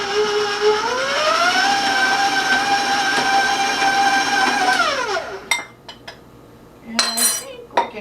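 An electric mixer runs steadily at medium speed through cookie dough, its tone rising as it spins up, then stopping after about five seconds, followed by a few clinks and taps of the bowl.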